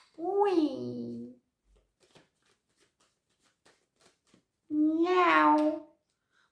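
Two drawn-out cat meows, close and clear, separated by a few seconds of near silence with faint ticking sounds.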